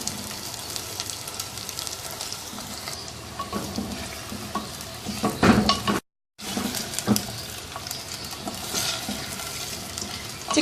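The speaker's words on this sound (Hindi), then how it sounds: "चिकन को अच्छी तरह से भून लेते हैं, ये हल्की सुनहरी रंगत में आ जाए।" Chicken pieces browning in a narrow-mouthed handi for Chinioti-style chicken kunna, giving a steady close sizzle with occasional stirring scrapes and clatters and a brief silent gap midway.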